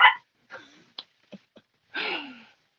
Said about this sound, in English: I got my dogs right here